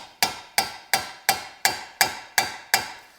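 Eight sharp metallic hammer taps on a Porsche 996 engine valve in a steady, even rhythm, each ringing briefly before the next strike, close and clear with no talking.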